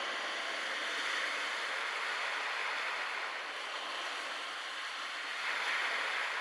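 Broad, steady surf and wind wash over the beach at Pembrey Country Park in South Wales, a continuous soft roar at a distance with no voices.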